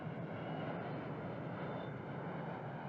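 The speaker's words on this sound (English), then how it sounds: "Airplane going by." An airplane passes overhead with a continuous broad engine roar, steady and moderately loud throughout, with no voices.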